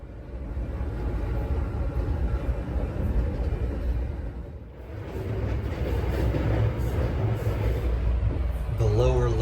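Coast Starlight double-decker passenger train running on Union Pacific rails through the Willamette Valley, a steady loud rumbling roar from inside the car with a brief dip midway and a faint squeal near the end.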